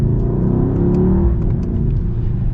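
The V8 engine of a 2022 Mercedes-AMG GLE 63 S accelerates hard with a deep, steady roar from inside the cabin, loud and continuous with no talking.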